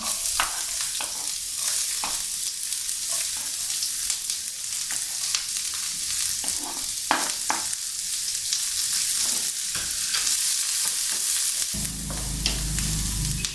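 Onions and curry leaves frying in a pan for masala dosa filling, a steady loud sizzle with intermittent stirring scrapes throughout, close up and uninterrupted.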